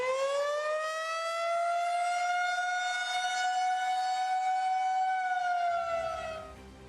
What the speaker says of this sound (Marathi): हा सायरन आहे युद्ध सज्जतेचा, पाकिस्तानला धडा शिकवण्याचा.